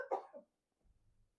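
A single sharp sneeze in a quiet lecture room, close and fairly loud, followed by a faint low rumble of room noise.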